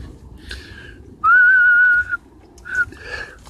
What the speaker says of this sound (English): I'm gonna whistle again.